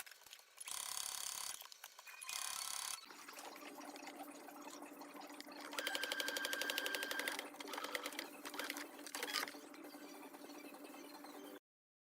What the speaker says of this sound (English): Now we are going to sew the other side of the bias tape.